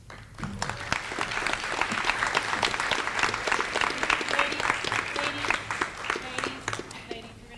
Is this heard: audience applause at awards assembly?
yes